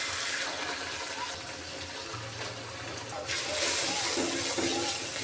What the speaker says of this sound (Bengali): এখন একটু পানি দিয়ে দিলাম।